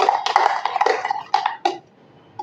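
A spoon stirs mango lassi in a glass, making a quick run of close clinks and scrapes that fades out, with one last light tap.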